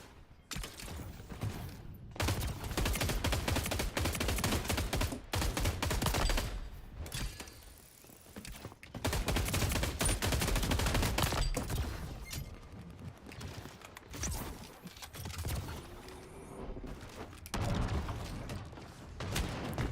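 Shotgun blasts and rapid gunfire in a multiplayer shooter game with a mech, loud repeated bursts of shots and booms in quick clusters throughout, with mechanical clanks between volleys.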